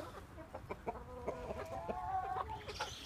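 Several chickens cluck and squawk close by in a steady, busy chatter, with a rougher call rising near the end, in a yard with turkeys, Muscovy drakes and grey geese.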